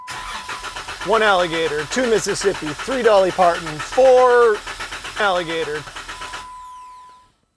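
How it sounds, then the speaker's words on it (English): A car engine is cranked for several seconds with the throttle held to the floor, a steady low cranking drone beneath a man counting aloud, then it cuts off abruptly. "I'm gonna turn the key on, and then we'll crank about 5 to 10 seconds."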